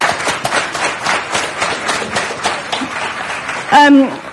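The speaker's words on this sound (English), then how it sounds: "I love the applause" Audience members at a Seattle political gathering clap in a sustained ripple of applause, and a single voice cuts in briefly at the end.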